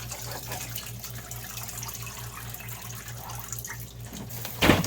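Water runs steadily into a portable spin dryer under a low mechanical hum, ending with a brief louder splash.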